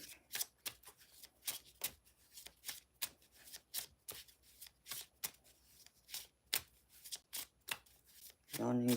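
A deck of tarot cards is shuffled in repeated crisp riffling bursts at a steady rhythm, close and clear, with a voice talking in the background during a live reading.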